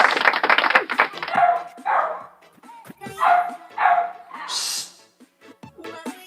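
Dogs bark in short bursts with brief whimpering yips between them, fairly close by, while people talk in the background.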